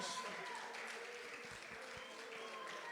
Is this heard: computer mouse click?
no